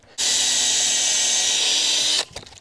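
A power drill whines steadily at close range for about two seconds, driving screws into cedar, then cuts off with a short rattling tail.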